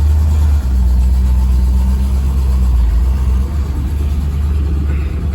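Chevy V8-swapped Range Rover with its final exhaust setup, towing about 2500 in first gear up a hill, gives a loud, steady close-up engine rumble with a deep droning tone that holds, then eases slightly partway through.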